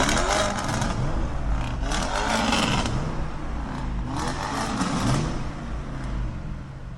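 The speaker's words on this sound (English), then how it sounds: "let's listen to the exhaust note of the Audi RS" A Lumma-tuned Audi RS Q8 produces a continuous engine and exhaust roar with rumbling, swelling passes and broadband rush, moderately loud and heard alone for several seconds.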